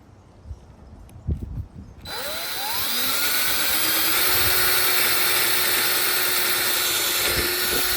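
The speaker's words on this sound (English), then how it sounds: "I'm just literally going to drill a hole on both sides of it" A power drill whirs steadily at close range after a few clatters and knocks, its motor tone holding under a broadband hiss.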